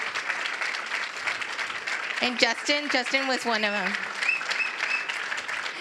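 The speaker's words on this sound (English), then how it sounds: "give you a huge round of applause" Applause at a city employee recognition awards ceremony, steady clapping from an audience running throughout while a voice speaks over it.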